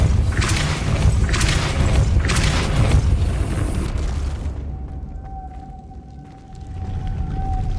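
A Depulso spell in Hogwarts Legacy goes off as a series of deep, booming magical bursts in quick succession, then fades to a quiet ambient hum with a faint tonal whine.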